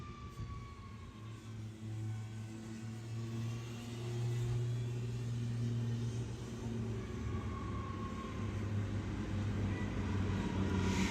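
A drift car on a practice run at the Cyprus Drift Championship roars and revs continuously, rising and falling in pitch as it is pushed through the zones, heard from a distance with a steady engine drone.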